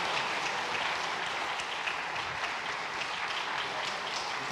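A church congregation applauds an award presentation at a regional church school event during Sunday worship, a dense, steady wash of many hands clapping throughout without pause.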